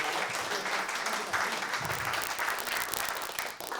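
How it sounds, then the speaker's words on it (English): Sustained, loud audience applause and cheering for the MVP winner at a Rocket League esports grand final, a thick continuous wash of clapping that holds steady before easing slightly at the end. "Everyone, a round of applause, please, for Dom."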